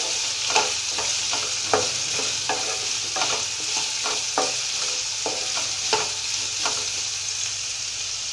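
Ground yellow mustard seed and spices frying in a pan while being stirred, giving a steady close sizzle broken by repeated scraping stir strokes about every half second.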